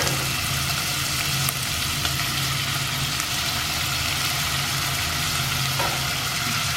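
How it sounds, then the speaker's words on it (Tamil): Prawns fry in a pot for a one-pot prawn biryani, giving a steady, close hiss and sizzle that carries on unbroken throughout with no talking. "ஜஸ்ட் ப்ரான்ஸை மட்டும் போட்டு குக் பண்ணி எடுத்துக்குவோம்."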